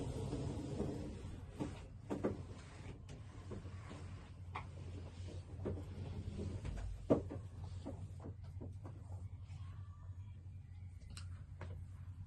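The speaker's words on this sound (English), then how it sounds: "I gotta close my door real quick" A door is pushed shut indoors with soft knocks and a single firmer thud near the middle, faint and close, in an otherwise quiet room.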